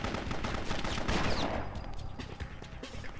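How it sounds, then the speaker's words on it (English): Gunfire in the Bloodrayne video game, a dense rattle of loud, close shots for the first second and a half, then sparser scattered hits and background game noise. "I think he just shot me once."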